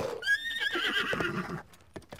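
A horse in Zelda Breath of the Wild gives a loud, close whinny with a wavering pitch, followed by a few scattered hoof clops as it settles.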